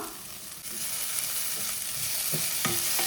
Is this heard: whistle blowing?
no